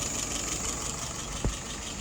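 An engine idles at about 680 RPM in a steady, even hum, broken once by a single short knock or click.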